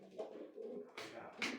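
Pigeons coo softly in a low, murmuring run, with a couple of louder bursts and voices talking nearby.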